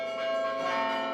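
Carillon bells of the Mons belfry ring out in bright, sustained tones, with several overlapping strikes forming a resonant melody that carries from a moderate distance without any talking.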